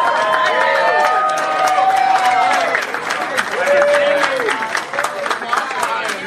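Live audience at a podcast event at Dragon Con cheering and clapping in a dense, sustained wash, with shouts and voices rising throughout and a brief swell of whoops near the middle.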